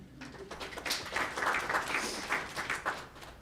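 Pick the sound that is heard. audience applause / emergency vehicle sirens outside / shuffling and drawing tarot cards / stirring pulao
audience applause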